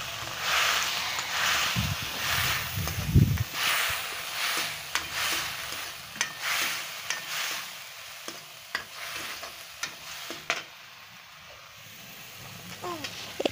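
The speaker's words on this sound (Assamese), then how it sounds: "মটৰ মাহকেইটা আৰু দালিখিনি দি অলপ লৰাই লৈছোঁ" Dal and peas being stirred in a frying pan for a vegetarian Assamese banana-stem dish, giving soft scraping and faint sizzling with a few sharper knocks of the spoon, quiet and close, with no talk.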